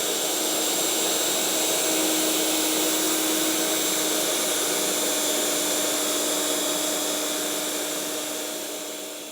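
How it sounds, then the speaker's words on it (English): A router with a 1/2 inch spiral bit cuts grooves in plywood, a loud sustained high-pitched whine and roar that holds steady before winding down at the end. "So now all I'm going to do is route these grooves."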